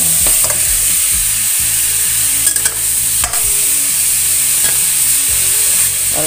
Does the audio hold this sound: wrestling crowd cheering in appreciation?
no